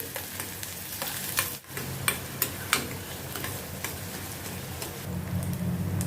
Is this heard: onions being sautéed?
yes